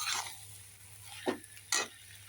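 A spatula scrapes through dal chorchori vegetable curry in a pan in three brief, distinct strokes over a quiet steady hum, with no talking.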